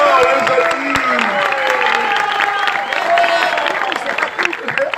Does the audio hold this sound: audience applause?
yes